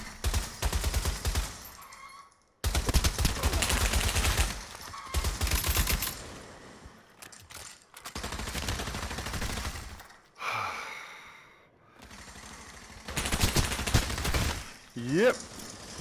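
Bursts of gunfire from a VR shooter game played on PSVR2, several loud volleys separated by short lulls, with faint breathy vocal sounds between them.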